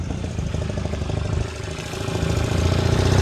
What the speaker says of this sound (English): Nice exhaust note too